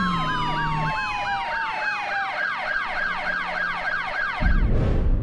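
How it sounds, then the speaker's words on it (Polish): Police sirens wail in a San Francisco car-chase video game, a rising and falling electronic tone that runs steadily over low road rumble before a louder burst of engine noise near the end. "jakby gościu z daleka usłyszał syreny policji"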